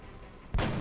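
A single sniper rifle shot in XCOM: Long War cracks out sharply after a quiet lead-in, a loud sudden blast with a brief rumbling tail.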